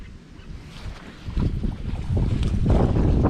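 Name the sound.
wind blowing on a lake while fishing from a boat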